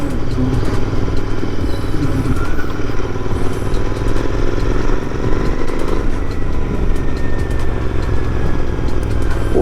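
Motorcycle engine running steadily while riding through city streets, a continuous loud drone with rumble and clatter throughout, no voices.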